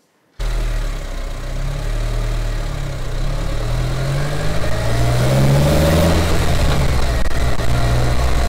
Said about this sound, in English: as you push your foot more deeper into the throttle, you hear the air. You hear the induction noise